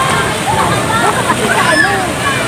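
River water at a cold spring splashes and sloshes continuously, loud and close, with gurgling swirls, while a voice speaks over it.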